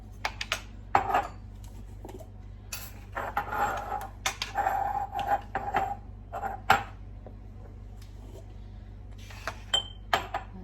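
Clean glass yogurt jars clink and knock together as they are handled, irregular sharp taps and chinks in scattered bursts with pauses between, close by over a low steady hum, no voices.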